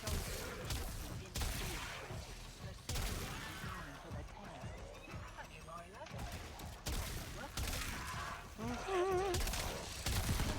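Gunfire in the Warframe video game: scattered shots and short bursts ring out amid busy combat effects, with someone talking over much of the action.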